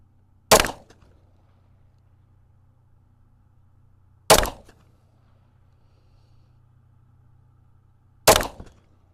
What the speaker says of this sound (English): Let's go ahead and zero this bad boy 15 yards out. 3 shots.